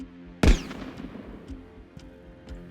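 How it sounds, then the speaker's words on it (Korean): A single sharp gunshot in an auditorium, standing for the pistol fired during the August 15 ceremony, cracks out loud and close, then rings off into a decaying tail with faint scattered knocks afterward. "갑자기 객석에서 날카로운 총성이 터져 나옵니다"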